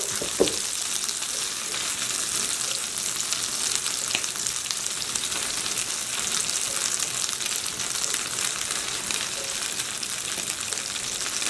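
Cold butter sizzles in a hot cast iron cornbread muffin pan, giving a loud, steady hiss and crackle that runs without a break and has no voices over it.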